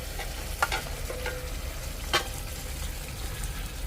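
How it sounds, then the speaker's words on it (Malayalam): Kerala-style beef roast gravy bubbles and simmers in a wide cheenachatti pan while a spoon stirs it. A close, continuous soft sizzle is broken by a couple of sharper scrapes and clacks against the pan. "തിളച്ച് തുടങ്ങിയിട്ടുണ്ട്, ഒന്നും കൂടെ കുറുകി വരട്ടെ കേട്ടോ"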